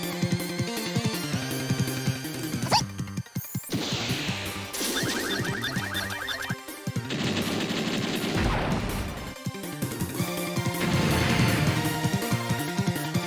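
Battle scenes from the video game Super Robot Wars F Final erupt with dense, repeated explosions and rapid gunfire bursts over loud game music, continuous and busy with no talking.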